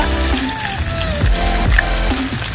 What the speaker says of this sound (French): Nous allons mettre notre poisson à frire.